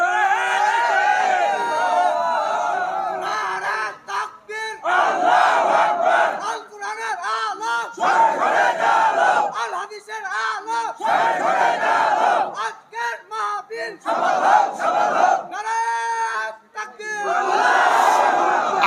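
A crowd at a Bangla religious sermon (waz) shouts takbir in loud, repeated collective bursts. The chanting voices rise and fall in waves, with short gaps between them.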